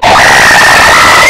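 A single loud, sustained high-pitched scream into a camera microphone, close and distorted, lasting the whole moment.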